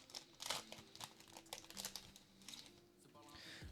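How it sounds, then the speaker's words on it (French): Plastic crinkling and rustling as someone struggles to tear open a Riftbound trading card booster pack wrapper, a quiet run of crisp crackles and short tearing bursts close by, with faint talk underneath. "J'arrive pas à ouvrir le paquet."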